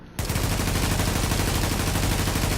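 Continuous full-auto fire from a G36 carbine rifle in The Division, a loud, dense, unbroken rattle of rapid shots that starts abruptly and runs steadily throughout, with no talking.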